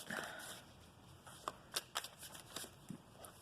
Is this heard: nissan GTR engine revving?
no